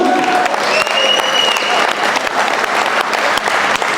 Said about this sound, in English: I want to give a round of applause for Officer Wallace coming through